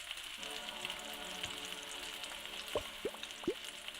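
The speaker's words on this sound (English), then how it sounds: "2 pieces of onion griddled. It's our first griddling of the onion." Onion pieces sizzling on a hot burger griddle, a steady, fairly quiet frying hiss with a few sharp pops and ticks toward the end.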